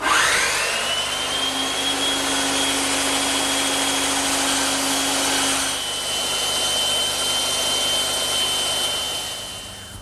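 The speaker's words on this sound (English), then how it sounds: "I'm going to have to cut it all freehand. So I'm just going to take my time back at the bandsaw." A bandsaw runs continuously while a wooden garden bench part is cut freehand, a loud steady whine and rushing blade noise with a held tone that shifts slightly midway.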